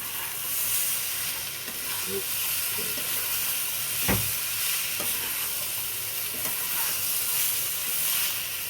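Capsicum frying in a pan gives a steady hiss and sizzle throughout, broken by a sharp clack near the middle and a few soft stirring knocks.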